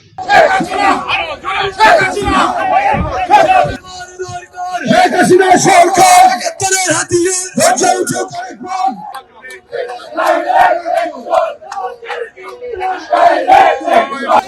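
Crowd of Awami League activists in New York chanting slogans in unison, loud and close, with rhythmic shouted phrases broken by short pauses and bursts of cheering.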